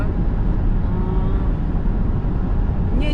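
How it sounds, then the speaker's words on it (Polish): Inside a GAC Aion V electric car with double-glazed windows cruising at highway speed on an expressway, a constant loud broadband hum of road and wind noise fills the cabin. "mi się ten samochód pomimo podwójnych szyb wydaje trochę głośnawy"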